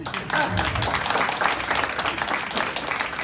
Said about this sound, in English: clap for our translators here tonight?